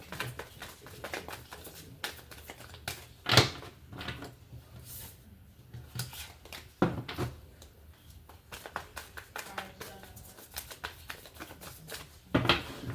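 Cards are shuffled repeatedly, with crisp riffling bursts and soft flicks of paper coming in quick, uneven clusters close to the listener.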